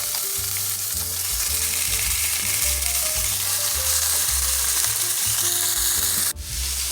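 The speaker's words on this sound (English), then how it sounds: "you can add in your ground beef" Ground beef sizzles loudly in a hot pan for Mongolian noodles, a dense, continuous frying hiss with repeated stirring and scraping strokes and a sharp clatter near the end, with no talk.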